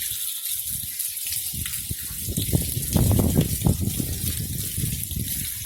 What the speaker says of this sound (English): Okay, I got the water running.